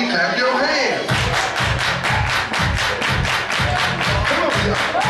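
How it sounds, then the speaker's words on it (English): A dance crowd claps hands in unison during a funky cha cha routine, a regular rhythm of loud, close group claps over pulsing music, starting after a brief stretch of music alone. "Everybody clap your hands."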